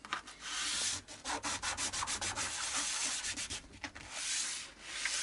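Sandpaper rubbed against the nut of a Harley Benton SC450 electric guitar, a steady run of close, rasping back-and-forth strokes with brief pauses, no talking.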